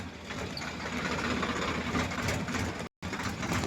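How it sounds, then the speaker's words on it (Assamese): A tractor engine runs steadily at close range, driven by a small child, with a rough, busy chugging that holds an even level and briefly cuts out near the end. "ইমান সৰু বাচ্ছা যে ট্ৰেক্টৰ চলাই আছে"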